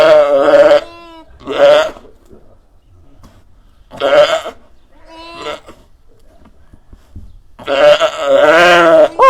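A ewe bleats loudly during lambing while people help turn the lamb into the right position, giving several long strained calls separated by quieter pauses, close to the listener.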